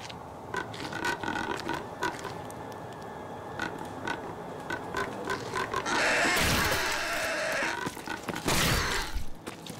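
A pigman creature in the Lies Beneath horror game grunts in repeated rough pulses over a dense, noisy backdrop, rising to two loud, harsh bursts near the end.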